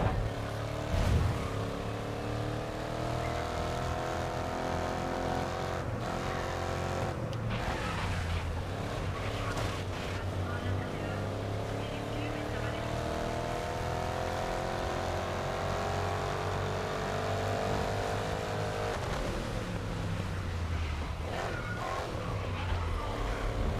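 A race truck in the racing game GRID Legends roars steadily at high revs with tyre screech from missed cornering and braking, dense and continuous throughout.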